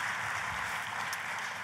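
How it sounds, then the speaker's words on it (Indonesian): A church congregation claps for God in steady, dense applause that carries at an even level from start to finish with no voices over it. "Kita kasih tepuk tangan yang paling meriah buat Tuhan kita."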